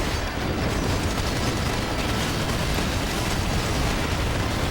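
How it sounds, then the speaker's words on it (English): Dense, continuous barrage of turret fire and explosions from a battle station in Battalion Wars 2, a loud, unbroken roar of rumbling blasts with no pauses or talk. "I love it when all of the little mini turrets on the battle station are going off."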